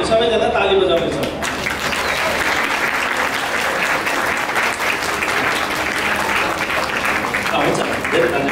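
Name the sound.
wedding guests clapping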